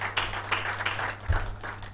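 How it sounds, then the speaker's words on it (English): Audience applause at a digital activism awards ceremony and report launch: a round of clapping from a gathered crowd, steady and moderately loud, with a low hum underneath. "A round of applause for NONDO"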